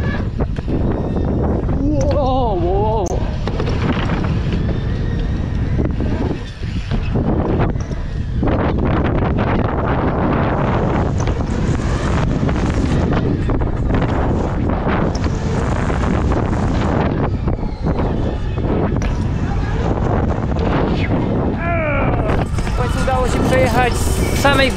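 Strong wind gusting over an outdoor rooftop at the Red Bull Roof Ride event, a loud continuous roar buffeting the microphone throughout, with people talking underneath.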